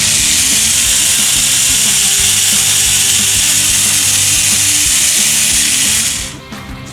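A Tamiya Desert Golem mini 4WD car runs its small electric motor and gears, a loud, steady high whine with a gritty buzz that holds for about six seconds, then cuts off abruptly and dies away.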